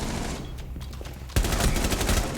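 Sudden loud burst of automatic gunfire in Rainbow Six Siege, erupting after a quieter stretch and continuing as rapid close shots.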